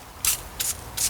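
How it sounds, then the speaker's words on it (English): Three quick hissing bursts of spray hit a small vortex tube during maintenance, evenly spaced and close up, with no talking. "I tend to always spray the little tube down real good"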